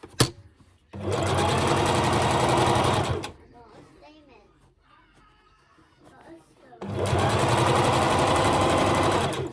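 Sewing machine top stitching around a washable fabric face mask: two loud, steady bursts of rapid mechanical whirring, a few seconds each, with a quieter pause of small handling sounds between them.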